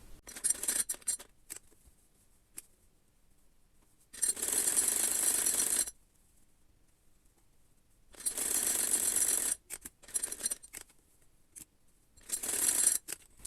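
A sewing machine stitching a hijab seam runs in three long buzzing bursts of a few seconds each, separated by quiet gaps filled with small clicks and handling of the fabric, close and clear, with no speech.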